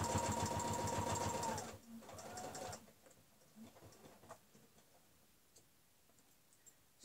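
A sewing machine stitches fabric for a table runner in a rapid, steady run of needle strokes, then stops after about two seconds; a shorter burst follows before fading to quiet handling noises.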